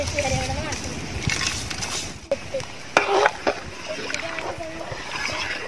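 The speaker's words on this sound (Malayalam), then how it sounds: "വെള്ളം നല്ല തിളച്ച് പൊന്തുന്നുണ്ട്. നമുക്ക് അരിയിടാം." Washed rice tipped into a pot of rolling boiling water for Thalassery chicken biryani, giving close splashes and sloshing bursts, the loudest around the middle, beneath a background hiss.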